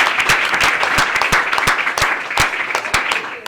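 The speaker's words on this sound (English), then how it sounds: "I'd like to give them one more round of applause." Applause for panelists at a women in debate panel event, a loud, close round of clapping from a modest audience with distinct individual claps, steady throughout with no speech.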